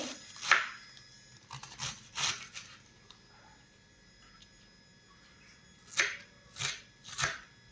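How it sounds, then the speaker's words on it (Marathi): A knife finely chopping cabbage for gobhi paratha, heard as separate bursts of crisp cutting strokes on a board with quiet gaps in between, close and fairly faint. "पराठा बनवण्यासाठी मी इथे पत्ताकोबी घेतलेली आहे, ती आता आपल्याला एकदम बारीक चिरून घ्यायची आहे"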